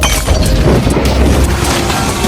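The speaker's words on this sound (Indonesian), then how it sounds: "ledakan besar mengguncang gedung itu" A loud, sustained rumbling blast from a time bomb exploding in a building, with crashing debris-like noise, dense and close, lasting a couple of seconds with no voices.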